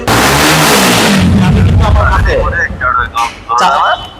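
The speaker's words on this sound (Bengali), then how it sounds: "চাবি ছাড়াই বাইকটা স্টার্ট হয়ে যায় এই যে আমি স্টার্ট করি" A YCR 250-RR motorcycle engine starts without a key, firing up with a loud low rumble, then revs and idles unevenly close by, with brief bursts of talk over it.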